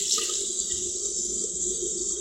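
Tap water runs steadily over a bowling ball being rinsed, a continuous close splashing hiss with no talk.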